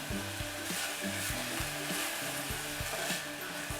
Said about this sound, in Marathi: कांद्याचा कलर बदलेपर्यंत आपण कांदा परतायचा आहे